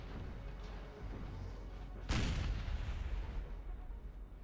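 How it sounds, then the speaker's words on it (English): A single booming cannon shot from Napoleonic-era artillery in the strategy game Napoleon: Total War, sudden and heavy, ringing out over a constant dense battlefield rumble. "Yeah, Russia's firing this direction."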